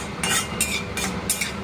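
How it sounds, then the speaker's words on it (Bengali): Cumin seeds and dried red chillies hitting hot oil in a pan for dal tempering, giving four bright crackling bursts of spitting at steady intervals over a low background hum, with no talking. "দিয়ে দিচ্ছি জিরে, শুকনো লঙ্কা,"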